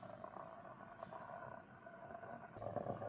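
A Portronics Thermosip vacuum-insulated electric travel kettle heats water, giving a faint, low, continuous rumbling hum with soft bubbling, steady and quiet throughout with no talking.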